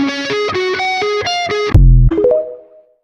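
A distorted electric guitar plays a song's riff as rapid picked single notes, then a heavy low power chord and a short phrase that rings out and fades; loud, alone, no voices.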